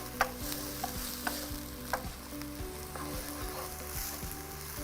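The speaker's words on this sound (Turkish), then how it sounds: "Soğanları şey yapmaya devam edeyim. Ya iyicene hani bu soğan böyle karamelize olsun." Onions frying and slowly caramelizing in a pan, a soft continuous sizzle close by with regular light scrapes and taps of a utensil stirring them, no voices.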